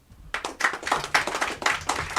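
Audience clapping at a music festival event, starting abruptly after a brief quiet moment and continuing as a close, uneven patter of individual claps.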